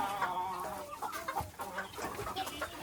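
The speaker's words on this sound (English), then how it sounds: "I want to say that is a Jubilee Orpington, just the way her feathers are" Jubilee Orpington hen and other hens clucking close by in a busy, overlapping chatter of short murmuring calls, steady throughout.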